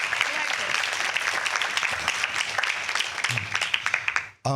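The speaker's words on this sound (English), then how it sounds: "Hey, clap, give this man a round of applause." Steady, fairly close applause from a convention audience welcoming a panelist at a discussion event, continuous and dense for several seconds before stopping abruptly at the end.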